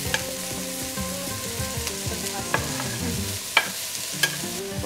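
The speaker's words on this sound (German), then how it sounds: "Mit so einem angebratenen Weißkohl." White cabbage frying in a pan while being stirred, a steady sizzle broken by scraping strokes and a few sharper clinks of the utensil, close and alone with no voices.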